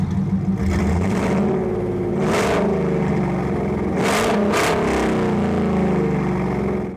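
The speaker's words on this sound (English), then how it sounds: "The exhaust sounds so good though." A modified Ford SVT Lightning pickup with its engine rebuilt from the frame up, exhaust droning steadily and loud throughout, with a few rising revs and bursts of rushing air in between.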